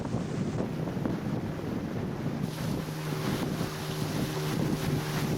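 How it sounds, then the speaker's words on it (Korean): A motorboat travels up a jungle river in Venezuela. Its engine drones steadily and loudly under heavy wind buffeting on the microphone, with water rushing throughout and no talk. "물살이 완만할 때는 보트로 오르고"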